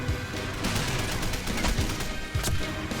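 Rapid machine gun fire in the video game Men of War Condemned Heroes, dense overlapping bursts crackling continuously, loud and close, with a few heavier thumps mixed in.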